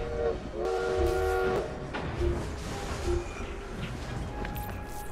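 A steam train in Assassin's Creed Syndicate rumbles past with a loud, sustained whistle near the start, then heavy rolling clatter fading under a game soundscape.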